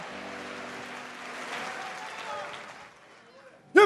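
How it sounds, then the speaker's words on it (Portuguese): Congregation applauding in a church, a steady wash of clapping under a speaking voice that fades out, ending in a brief loud burst. "Se é para Jesus, pode aplaudir mais forte."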